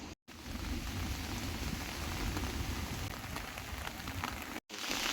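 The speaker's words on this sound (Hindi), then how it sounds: "भाई बारिश ज़ोरों का आ चुका है" Heavy rain pours steadily around a shelter on the Mawryngkhang bamboo trek in Meghalaya, a dense, even hiss of drops on surfaces with no voices, briefly cut off twice.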